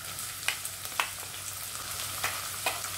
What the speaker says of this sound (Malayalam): അപ്പോൾ എണ്ണയൊന്ന് ചൂടായിട്ടുണ്ട്, അതിനകത്തോട്ട് ഇഞ്ചി വെളുത്തുള്ളി സവോള